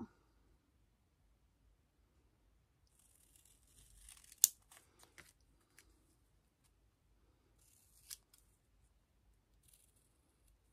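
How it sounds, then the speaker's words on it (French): Scissors cut paper for a Halloween scrapbook page, giving a few quiet, close snips and paper rustles clustered in the middle and again near the end, with long silent stretches between them. "mais je vais la découper un peu"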